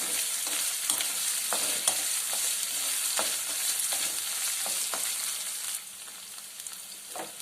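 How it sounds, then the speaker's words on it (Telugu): Ginger garlic paste sizzling in a hot pan for a broad bean pulao, a steady bright crackle broken by repeated scraping stirs, close and loud with no voices. "అల్లం వెల్లుల్లి పేస్ట్ కూడా వేగింది కదా"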